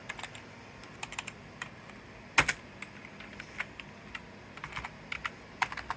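Someone types on a USB computer keyboard running NanamiOS, with quick irregular clicking keystrokes close by, one sharp louder press among them, over a faint background hiss and no talking.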